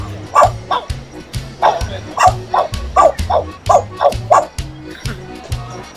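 A pet parrot mimics a dog, producing a rhythmic series of short barking, yipping and whimpering calls, loud and close, with a person's voice coaxing between them.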